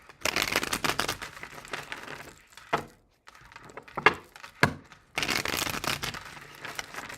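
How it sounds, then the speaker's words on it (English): A deck of tarot cards is shuffled in several quick, papery bursts separated by short pauses, close and fairly loud, with no voice over it. "Two more shuffles."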